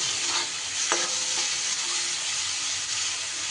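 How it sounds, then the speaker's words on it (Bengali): Pointed gourd peels frying in a pan sizzle with a bright, steady hiss, and a sharp scrape of stirring comes close by near the start. "পটলের খোসা দানাগুলো কয়েক সেকেন্ড নেড়ে নেওয়ার পর"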